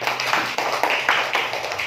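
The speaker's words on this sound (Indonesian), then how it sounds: "Iya, bagus, tepuk tangannya semua" Young pupils in a classroom clap together after a lesson answer, a dense, lively patter of small hands, close and steady throughout.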